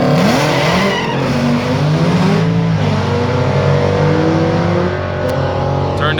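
Muscle cars drag racing on Woodward Avenue at Roadkill Nights, loud engines revving hard and rising through gears with brief tire squeal, a dense, continuous roar with crowd noise underneath.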